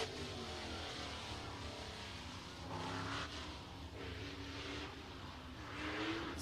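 A race car starting its lap on the oval at Showtime Speedway in Pinellas Park, Florida, its engine droning steadily at a distance and rising slightly in places, faint and without voices.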